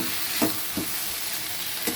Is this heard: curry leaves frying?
yes